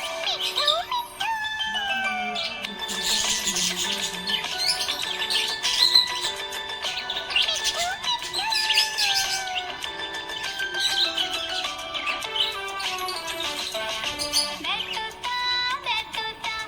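A pet budgie chirps continuously in bright, rapid bursts of tweets and trills, close and fairly loud, with steady tonal sounds running throughout.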